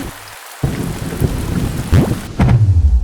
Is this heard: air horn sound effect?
no